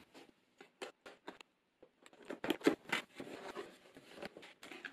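Cutting through the seal tape on the ends of a Corsair keyboard box, a series of short, quiet snips and scratchy tearing bursts close by, growing busier toward the end.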